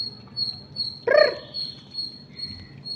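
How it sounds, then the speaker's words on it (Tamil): A squirrel gives a single sharp, chattering call lasting about a quarter second, close and fairly loud over a quiet outdoor background with a steady faint high whine. "அணில் சவுண்டு கேட்குது பாருங்க."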